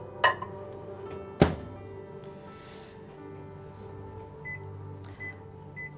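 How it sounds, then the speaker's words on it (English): Two sharp knocks ring out as a microwave oven door shuts on butter being melted, followed by a low steady hum and a few faint beeps toward the end. "So I'm going to put that in our microwave."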